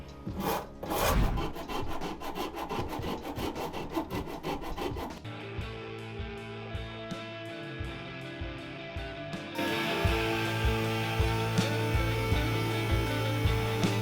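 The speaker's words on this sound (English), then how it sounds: "I used a carbide burr in my cheap Harbor Freight die grinder to clean up the inside curves of the body." Carbide burr in a cheap Harbor Freight die grinder shaping the inside curves of a wooden five-string bass body: a steady, close, high-pitched grinding whine with rough cutting rasp, shifting in tone partway through, with no talk.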